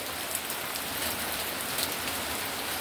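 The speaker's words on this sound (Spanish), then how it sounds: "hoy sí está lloviendo" Steady rain falls on surfaces outdoors, a continuous close hiss of pattering drops with no pauses and no voices.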